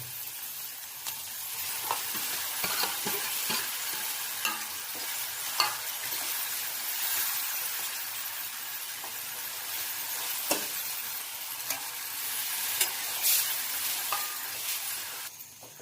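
Gram flour batter poured into a pan of reddened onions with turmeric, salt and curd, stirred for Konkan-style pithla; steady soft sizzling with repeated scraping stirs throughout, close and moderately loud, no talking.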